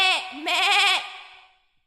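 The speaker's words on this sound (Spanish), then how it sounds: "Quieren oír, la oveja hace así." A sheep bleats twice in a children's animal-sounds song, a short wavering cry followed by a longer, loud quavering bleat that fades out.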